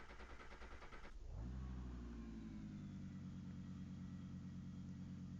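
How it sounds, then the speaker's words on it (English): An Audi R8 GT3 race car's engine cranks and fires up in iRacing on the Watkins Glen start-finish straight, then settles into a loud, steady, deep idle rumble with no talk over it. "Let's go and get the car started."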